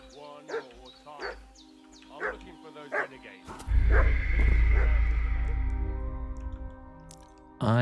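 A dog barking in Kingdom Come Deliverance 2, a series of sharp barks at an irregular rhythm over a dim background, followed by a loud low rumble that fades out.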